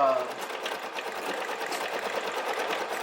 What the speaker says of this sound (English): We're going to go ahead and stitch out this next part of the design, which is some nice light green leaves.